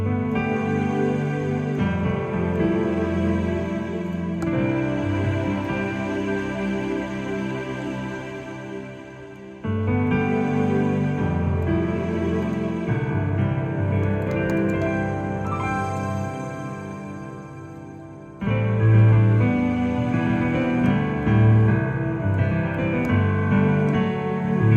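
Yamaha DGX-670 keyboard playing its CFX grand piano voice layered with a strings double, sustained chords with a soft ambient pad underneath, steady and fairly loud with no talking.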